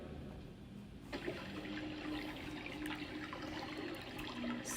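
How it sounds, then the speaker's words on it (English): Flowing water plays for relaxation as a steady, broad rushing wash with a soft trickling texture, continuous and even throughout with no voices. "We'll go with the sound of water."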